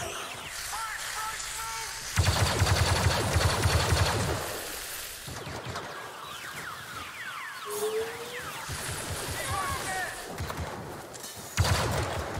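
Rapid blaster gunfire crackles in the Star Wars Battlefront 2 video game, with bursts of shots mixed with game effects and an excited voice shouting over the action.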